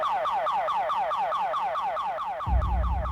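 A car alarm wails in a rapid repeating siren sweep, each rising-falling whoop cycling about four times a second, loud and close, before a sudden low rumble cuts in near the end.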